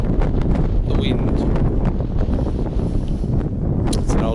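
Gusty wind buffeting a microphone outdoors in the desert, a loud continuous low roar with rustling bursts throughout.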